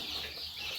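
A hen on a farm clucking with her nineteen chicks, a brief low cluck under soft peeping and a steady background hiss.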